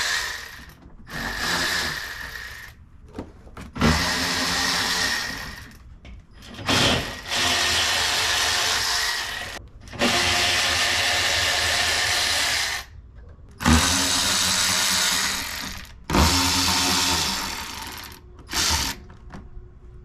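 Power tool removing six 10mm bolts from under a Toyota Tacoma, heard as a series of loud, close whirring bursts of several seconds each, separated by brief pauses and clicks.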